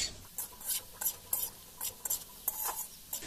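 Eel and potatoes frying in a wok are stirred with a metal utensil, giving quiet, irregular scrapes and clinks about every half second over a faint sizzle.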